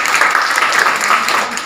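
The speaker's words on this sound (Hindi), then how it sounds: "इकरा के जोरदार ताली होनी चाहिए।" Students at a girls' inter college in Fatehpur, Mau give a short, lively burst of applause for a classmate named Ikra, with many hands clapping together up close for about two seconds.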